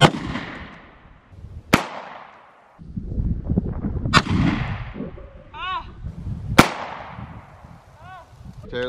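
Three sharp gunshots from an air rifle fired at a target outdoors crack out at intervals, each with a decaying tail, while people talk in between and a few short whistling sounds are heard.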